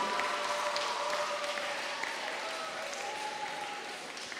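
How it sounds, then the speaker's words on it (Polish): A church audience at a Lenten retreat for children and youth claps for two children, warm steady applause that slowly fades over several seconds. "Brawa oczywiście dla obydwu."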